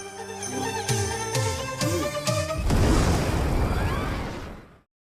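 A movie scene: descending whistling tones and chimes give way to a loud, rumbling explosion of a bomb in a crowd, whose roar sustains for a couple of seconds before cutting out.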